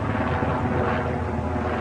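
A steady, loud droning rumble of a helicopter passing overhead fills the short clip without pause.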